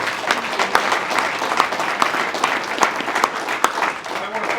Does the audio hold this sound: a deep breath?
no